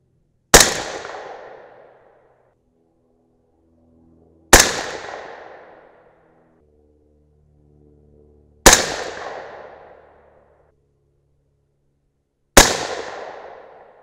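Four sharp, loud rifle shots from 22 Nosler handloads, evenly spaced about four seconds apart outdoors, each a crisp crack with a short decaying echo, and faint beeping tones in the quiet gaps between.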